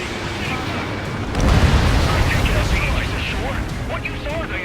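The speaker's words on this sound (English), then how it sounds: "Destroyer Calypso has been destroyed." The destroyer Calypso blows up in the video game Ace Combat 7, a loud explosive burst swelling then rumbling and crackling away, with faint high tones and effects trailing over the decay.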